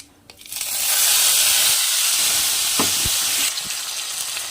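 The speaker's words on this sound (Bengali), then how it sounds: "মশলাটা দিয়ে ভালো করে কষিয়ে নিতে হবে" Ground spice paste fried with potol and prawns in a hot pan for a wedding-style potol chingri curry, a loud close burst of sizzling and steam hiss that holds steady, with a few sharp stirring knocks near the end.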